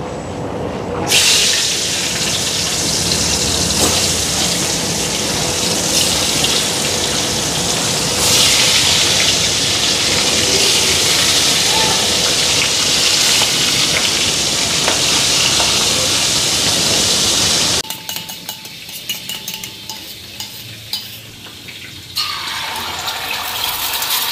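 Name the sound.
boal fish frying in a pan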